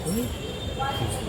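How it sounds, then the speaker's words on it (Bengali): A Bandel–Howrah local train pulls into a station at night, giving a brief, steady rumble with faint high wheel squeal under background voices. "আমাদের ট্রেন চলে এলো"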